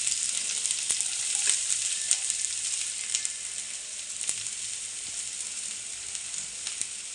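Onion frying in oil in a pan over low heat for Chinese-style noodles, a steady hiss of sizzling with a few faint clicks of stirring.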